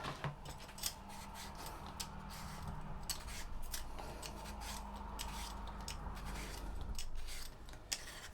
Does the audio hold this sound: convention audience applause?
no